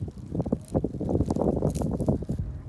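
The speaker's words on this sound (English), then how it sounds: "It is really windy." Gusty wind blows during an outdoor snowstorm, buffeting the microphone in loud, uneven rumbling bursts that rise and fall for several seconds.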